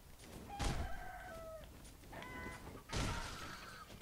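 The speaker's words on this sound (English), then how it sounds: "They're not chickens, they're roosters technically" Roosters in the video game Sekiro crow in two drawn-out calls with clucking and thuds between them, moderately loud over a busy game background.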